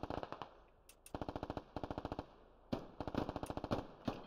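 Machine gun fire in the video game Squad, aimed at building windows: rapid bursts of evenly spaced shots broken by short pauses, loud and close, with a few single shots between bursts.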